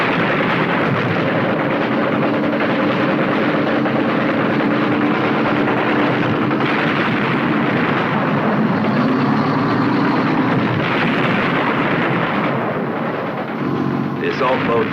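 Continuous heavy rumbling and booming of distant gunfire and explosions bombarding a river landing area in the Vietnam War, a dense, unbroken roar with no clear pauses.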